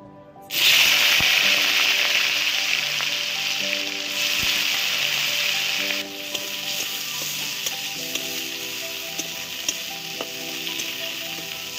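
Chicken frying in hot oil on a stove, a loud, steady sizzle that starts abruptly and keeps hissing throughout, with occasional stirring clatter and no talking.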